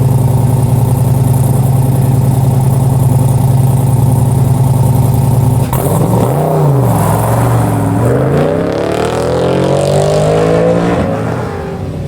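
A car on an autocross run at the Goodguys Spring Nationals in Scottsdale, Arizona revs loudly and steadily, then the engine note drops and swoops up and down through shifts and turns, close and continuous with no talking.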